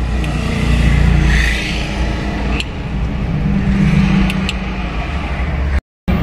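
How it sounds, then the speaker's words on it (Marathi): A car approaches and passes on a highway, a loud, broad engine and tyre roar that swells and holds, with a brief cutout near the end and no talk. "आता ही कार येते, बघू ते स्पीड किती आहे बघू आपण."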